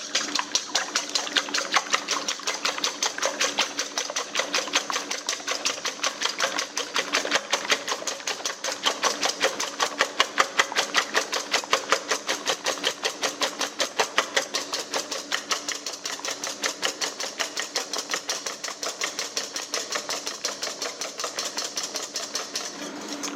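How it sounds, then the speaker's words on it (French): Egg whites with a pinch of salt are whisked briskly by hand, giving a steady, fast, even clatter of rapid strokes that runs for over twenty seconds, close and fairly loud, with no talking. "les blancs d'œufs, une petite pincée de sel, et on les fouette"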